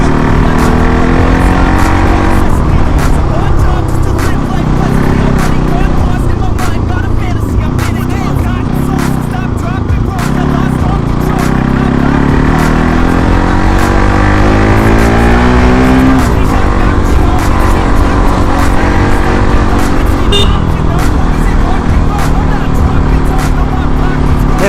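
A Bajaj Pulsar NS 200 motorcycle being ridden hard on hill roads, its engine loud and close throughout, rising and falling through revs and gear changes with heavy wind rush over the mic.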